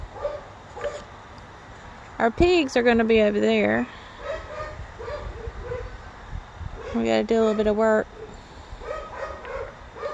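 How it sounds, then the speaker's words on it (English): Dogs yip and bark in two short bursts nearby on a small farm, with a person talking in between over light outdoor background noise. "sorry about all the dog barking,"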